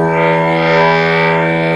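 An electric guitar through a Stiff Hippy II overdrive pedal with the distortion turned fully up holds one saturated, fuzzy note or chord, steady and loud with long sustain and no attack.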